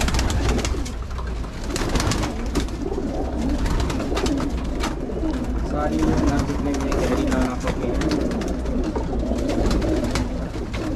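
Pigeons kept for racing coo repeatedly in soft, low burbling calls, heard close by throughout while someone talks in Hindi over them.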